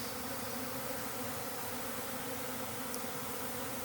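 Honeybees buzzing near their hive at day's end, a steady, dense, continuous hum filling the air with no pauses.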